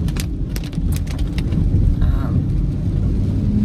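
Rain falls steadily on a gray, wet day in Atlanta, a dense constant hiss and patter with a low rumble beneath, loud and close, alone without voices.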